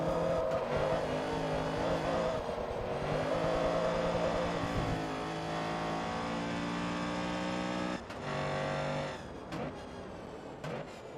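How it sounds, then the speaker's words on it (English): A raspy, high-revving Honda Civic engine in the racing video game Forza Motorsport 2 drones loudly and steadily, its pitch climbing and dropping through gear changes, with no talking. "The engine does definitely sound like a typical Civic. Very raspy."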